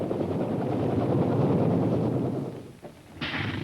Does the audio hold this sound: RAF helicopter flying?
yes